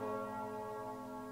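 A bell in the video game Trails of Cold Steel III rings in a sustained, resonant tone with layered overtones, steady and fairly quiet, with no talk over it.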